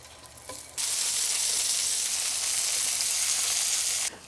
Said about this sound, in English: this zucchini is sauteing out